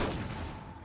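Sustained burst of light machine gun fire in the game Rimworld, a dense continuous rattle of rapid shots at steady loudness for under a second, no voices.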